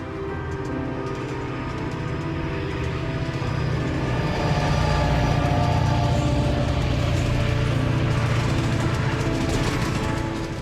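Passenger or freight train 413 rolling onto the upper track after a switch, a steady loud rumble of wheels and engine that swells midway and continues throughout without voices.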